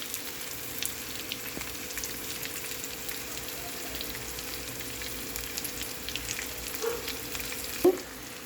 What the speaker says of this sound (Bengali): আর আলুটাকে এইভাবে আমি ভেজে নিচ্ছি।